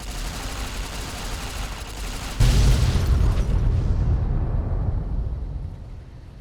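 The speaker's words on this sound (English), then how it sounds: "it looks like we got a couple of warheads here. And we're going to go ahead and detonate them" Warheads detonate in a video game with a sudden loud, deep boom that rumbles on and slowly fades, preceded by a steady roar of background noise.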